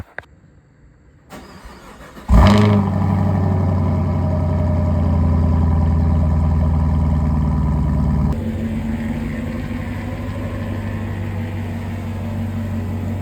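A 2021 Chevrolet Camaro SS 1LE V8 cranks briefly and fires up with a sharp loud bark, then settles into a deep, steady rumbling idle that drops slightly in level partway through, heard alone at close range.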